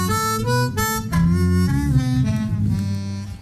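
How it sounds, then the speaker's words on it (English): Harmonica played through an octave pedal, giving a deep bass-like tone: sustained low notes and chords with a buzzy harmonic stack, close and steady, with no talking. "But I put this on and it sounds like a bass."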